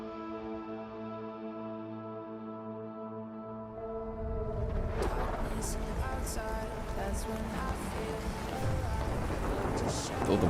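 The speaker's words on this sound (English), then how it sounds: "All the rain and everything, very spooky." Heavy rain and a thunderstorm: a low rumble under rain, then a sudden burst of loud, dense downpour with rolling thunder that keeps building to the end.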